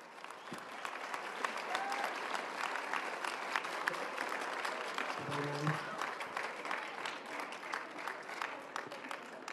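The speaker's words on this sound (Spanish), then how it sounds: "A quien pido lo recibamos con un fuerte aplauso," An audience claps steadily at a formal World Water Day event, a sustained patter of many hands heard from some distance, with a brief voice or tone mid-way.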